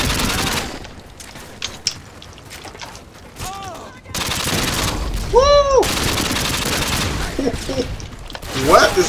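Bursts of AK-47 gunfire in Modern Warfare 2 on Nuketown, rapid automatic shots popping close and loud through busy game noise, with someone speaking between the volleys.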